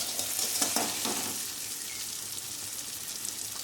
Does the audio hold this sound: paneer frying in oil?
yes